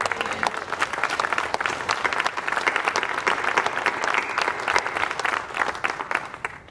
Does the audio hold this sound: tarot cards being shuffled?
no